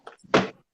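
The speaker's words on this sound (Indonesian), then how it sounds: "Nutup pintu dulu." A door pulled shut indoors gives a brief, close thunk after a faint initial rattle, heard once alone.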